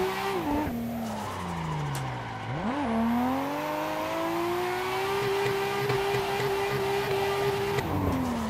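A Nissan Skyline engine revs hard and drones steadily while drifting through a tight corner in the racing game Assetto Corsa, its pitch dipping and climbing, with tire squeal layered over the continuous, loud engine note.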